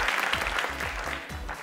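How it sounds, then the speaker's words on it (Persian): Studio audience on the Afghan Family Feud game show Ro Dar Ro claps for both teams, a steady, fairly loud round of applause with music underneath. "هر دویشان رو تشویق کنین که بیان جواب بتن."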